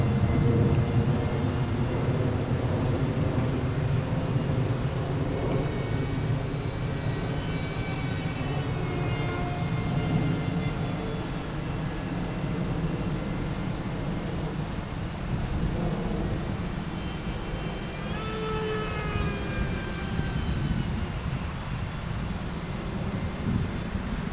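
An RC Mini Viper jet conversion, very fast, makes a steady rushing whine as it flies overhead, with a rising and falling tone that sweeps past. It holds at an even level throughout, with no talk.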